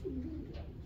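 A champion racing pigeon at a New Jersey loft gives a soft, low coo, close and clear over quiet room noise.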